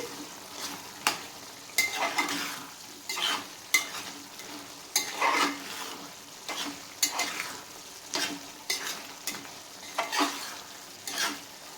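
A pan of potato and dried fish curry with curry leaves is stirred under a gentle sizzle, the spoon scraping in repeated strokes about once a second, close and fairly quiet.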